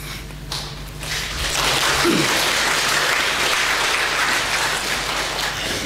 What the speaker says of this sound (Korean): 지금 박수 계속 치면 저보고 설교 길게 하라고 하는